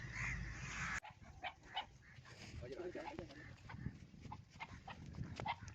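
Dogs bark several times at a farm, the barks faint and partly masked by someone talking, along with outdoor noise and rustling.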